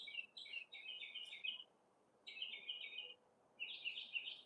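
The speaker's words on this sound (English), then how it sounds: "That's the mockingbird." A northern mockingbird chirps in three bursts of rapid, high, repeated notes with short pauses between, fairly close and clear over a faint background.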